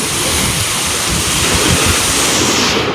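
Strong wind blows steadily by the sea near a boat, with broadband roaring gusts and surf-like rushing that fills the whole clip at a constant, loud level, buffeting close to the microphone.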